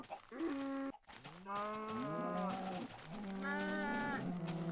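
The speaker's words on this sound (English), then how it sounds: "you cows are so loud" Several cows in a farming video game moo loudly and at length, overlapping lowing calls following one another close up with almost no gap, without speech.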